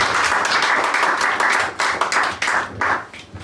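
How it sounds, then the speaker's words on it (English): Enthusiastic clapping from an audience welcoming panelists on stage, loud and close, with a rhythmic feel before it thins out and fades. "please give the panelists a warm welcome and a good applause, please"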